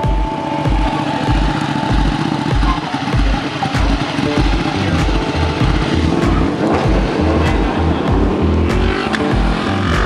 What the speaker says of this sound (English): is that a motorcycle with an inline six?